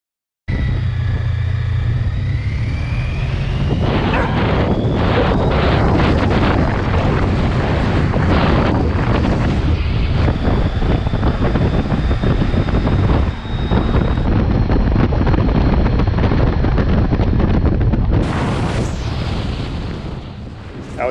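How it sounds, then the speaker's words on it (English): Heavy wind buffets the microphone during a motorcycle ride, a loud continuous roar and rumble with engine noise underneath, sustained and close throughout. "I was fighting some really heavy winds on this ride."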